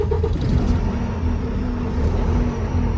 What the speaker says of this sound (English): We're going to start the tractor up.